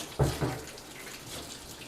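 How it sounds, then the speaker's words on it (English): Running tap water rinses a brewing float, giving a steady close splashing hiss with a brief louder splash near the start and no voices. "Let me rinse this off real quick here."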